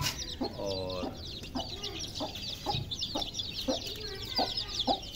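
A hen clucking outdoors near her coop, a series of short, fairly close clucks repeating in an uneven rhythm over a steady background chatter of other birds.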